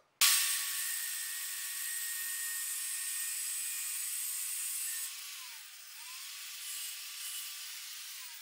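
A high, steady whine of a small rotary cutting tool grinding the head off a metal bolt, continuous and close, dipping briefly in pitch near the end as it bites harder.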